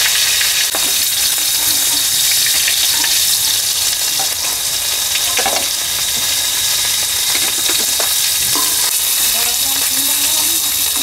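Fish pieces fry loudly in hot oil, a dense continuous sizzle with scattered crackles and a few scrapes of a metal spatula against the pan, close up and without voices.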